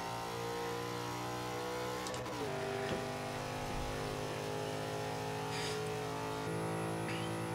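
A Nissan GT-R R34 engine driven in the video game Forza 5, holding a steady, sustained drone with a brief gear-change blip, heard alone at moderate level.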